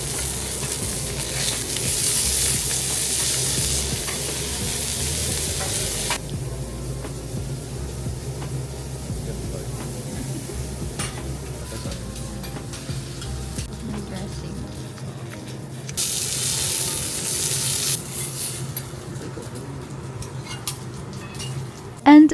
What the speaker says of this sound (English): Watching the chef cook the meat right in front of us was such an experience too, because the sizzling sound, the way the fat melted into the grill